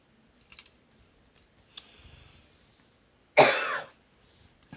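A single loud, harsh cough bursts out near the microphone after a few soft clicks and faint keyboard taps, then trails off quickly into quiet.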